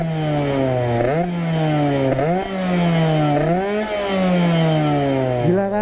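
A Yamaha RX-King two-stroke motorcycle fitted with a new aftermarket PDK exhaust revs repeatedly and loudly up close, each blip rising sharply then falling back, with a raspy, buzzing tone between throttle bursts.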